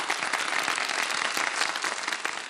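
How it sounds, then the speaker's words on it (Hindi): Studio audience applause on a children's Eid segment, a dense continuous burst of clapping filling the short moment, fairly loud and steady with no talk on top. "चलो भाई तालियां बजा दो इस बात पे तो"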